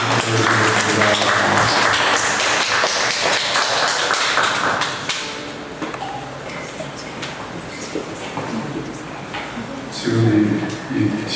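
A church congregation breaks into dense, loud applause for several seconds that then fades, followed by someone talking over the room.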